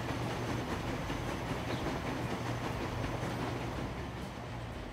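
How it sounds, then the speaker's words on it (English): A freight train in the Transport Fever video game runs continuously, a dense steady rail rumble with faint rhythmic clatter, moderately loud and without talk. "How big that train is compared to the others."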